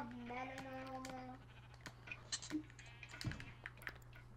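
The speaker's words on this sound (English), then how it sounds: "And sheep are baaing. They're baaing really loud." Sheep bleat loudly in Minecraft, a harmonic baa up front followed by scattered clicks and short bursts over a steady low hum.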